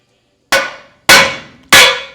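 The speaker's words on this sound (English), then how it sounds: "Oh, I think it's hammer time." Three loud, sharp hammer blows strike a 1946 Ford coupe's independent front suspension during installation, spaced about half a second apart, each ringing briefly with a metallic clang before decaying.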